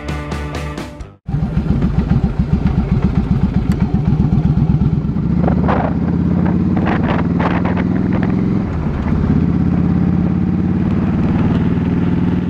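Motorcycle ridden through the countryside on a sunny afternoon, the engine starting up and revving in quick pulses, then settling into a loud, steady drone buffeted by heavy wind noise.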